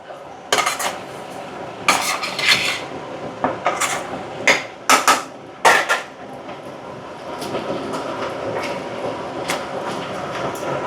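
Chicken pieces and chopped onion stirred and fried in a pan for Pandalapaka-style chicken biryani, a metal spoon clanking sharply against the pan in bursts over a steady sizzle that continues alone near the end.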